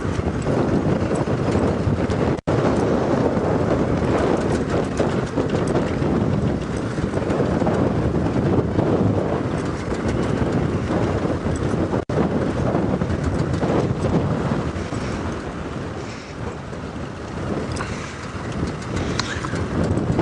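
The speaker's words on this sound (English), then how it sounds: "now we're in a more open area. This wind is much stronger." Strong wind buffets the microphone in an open area during a sunrise safari drive, a loud continuous roar with gusts and rumble lasting throughout, easing slightly near the end.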